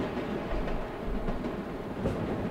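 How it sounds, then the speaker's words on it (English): Manhattan-bound 7 local subway train in the World of Subways video game: a steady rolling rumble with faint rail clatter runs continuously at even loudness, with no one speaking. "We're a Manhattan bound 7 local train."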